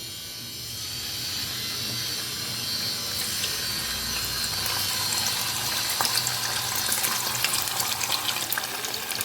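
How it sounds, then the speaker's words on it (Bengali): Paneer pieces go into hot white oil in a wok, giving a close, fizzing frying hiss that swells after a few seconds and continues with small clicks and clatters, no talk heard. "তেলটা আমার গরম হয়ে গেছে এখন আমি পনিরগুলোকে ভেজে নেব"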